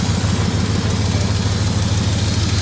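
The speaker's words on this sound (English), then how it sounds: "engine that's sick, that idle's pretty smooth." A 1996 Dodge Ram 1500 pickup engine idles steadily and smoothly up close, a loud low rumble with even pulsing and no talk over it; an exhaust leak from a broken stud on the back cylinder is present.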